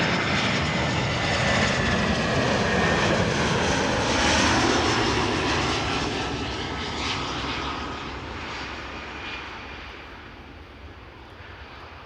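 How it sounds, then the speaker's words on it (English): An Air Arabia Morocco airliner arriving from Tangier roars overhead, its jet engine noise loud and broad at first, then fading gradually as it passes. "Air Arabia Morocco, flight 127 arriving from Tangier in Morocco."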